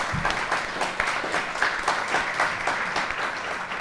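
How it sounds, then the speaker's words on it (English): A seated audience at a science panel on drugs in sport claps steadily throughout, a dense, even patter of many hands with no voices over it. "Can we get another round of applause for those"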